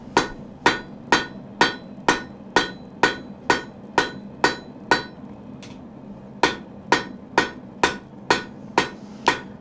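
A hammer strikes a knife tang in steady, evenly spaced blows, about sixteen sharp ringing metallic hits close by, with one short pause midway.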